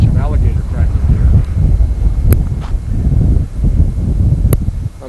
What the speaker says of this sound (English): Maybe that was a mistake as much wind as we have.